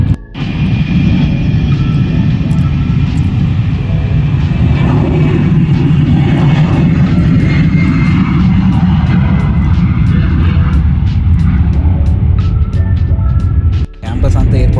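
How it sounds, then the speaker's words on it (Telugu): Airplane taking off from the airport right beside a university campus in London, a loud, sustained roar of jet engines dominating the whole stretch, steady throughout and cutting off abruptly near the end. "లేకపోతే నేను ఫ్లైట్ సౌండ్ వస్తుంది, టేక్ ఆఫ్ అవుతుంది, చూపిస్తాగు."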